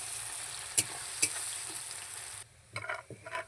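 Chopped onion frying in a pan until lightly browned, a soft steady sizzle with a couple of sharp spatula clicks, then quieter stirring scrapes near the end, close and fairly faint, no voices.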